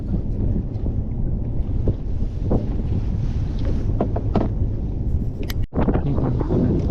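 Strong, steady wind buffets the microphone out on the water during ultralight fishing at low tide, a continuous low rumbling roar with gusty swells, loud and close throughout.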